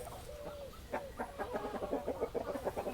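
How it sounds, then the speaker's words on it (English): A hen clucks in a steady run of short, rhythmic calls, close and fairly clear, with no voices over it. ""Book, book, book," clucked the hen quite clearly."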